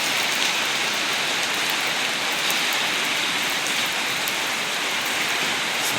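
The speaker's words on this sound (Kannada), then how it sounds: "ಮಳೆ ಬರ್ತಾ ಇದೆ" Steady rain falling outside houses, a dense, even hiss of drops spreading across the whole clip with no pauses and no voices.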